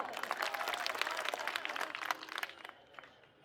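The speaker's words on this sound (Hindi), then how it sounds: "इसके लिए भी ताली बजा दो।" An audience at an Aam Aadmi Party Delhi election speech in Matiala breaks into brisk, dense clapping that thins and fades out over a few seconds.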